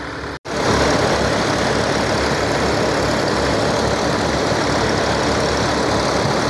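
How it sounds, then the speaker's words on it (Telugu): Five large electric motors pumping heavy volumes of water, heard as a loud, constant drone with rushing noise that kicks in after a brief cut near the start and then holds steady to the end. "5 మోటార్లు అయితే నిరంతరం ఇక్కడ వాటర్ పంపింగ్ చేయడం జరుగుతుంది."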